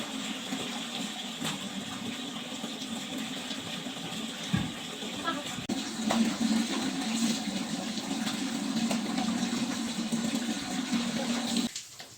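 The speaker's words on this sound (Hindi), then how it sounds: "तो चलिए जल्दी जल्दी हम कपड़ा ऊपर धो लेते हैं, धो के पसार देते हैं" School uniform clothes are washed by hand in water, with sloshing, splashing and running water throughout at close range while someone speaks over it in Hindi.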